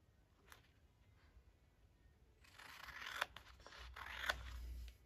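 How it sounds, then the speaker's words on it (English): Scissors snip through slightly sticky paper being trimmed for a Christmas junk journal collage page, with a few close, crisp cuts that grow louder after a quiet start. "So we'll trim it off."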